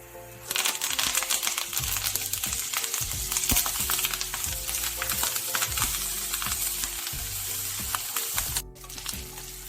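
A large handful of curry leaves fries in a pan for a beaten-rice snack mixture, loud crackling sizzle under repeated scraping strokes of a stirring spoon, with a steady underlying hum throughout.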